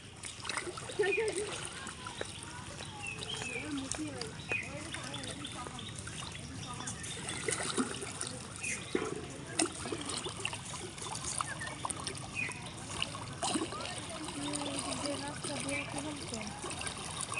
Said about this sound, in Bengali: পানি গোল গোল ঘুরে যাচ্ছে, দেখ।